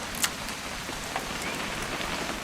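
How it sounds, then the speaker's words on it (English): Steady rain pattering on a surface in the video game What Remains of Edith Finch, a continuous wash of drops with a couple of sharper drip ticks, no voices. "It's gonna rain the whole weekend, isn't it?"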